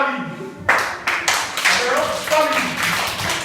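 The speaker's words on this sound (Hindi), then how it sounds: "आप भी दो ताली।" A group of children at a library session claps in scattered bursts after a quieter start, the claps uneven and close, mixed with voices talking and cheering over them.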